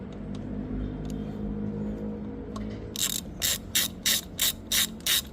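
Ratchet tightening the oil drain bolt on a Honda Beat FI scooter during an oil change: a quiet mechanical hum at first, then six evenly spaced, crisp ratcheting bursts close by.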